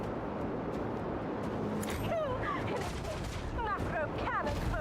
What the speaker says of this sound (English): Macro cannon barrage.